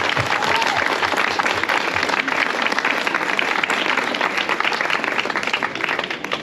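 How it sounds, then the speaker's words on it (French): Audience at an associations forum applauding, a sustained dense burst of clapping from a crowd, loud and steady throughout with little other sound. "je crois qu'on peut les applaudir très fort."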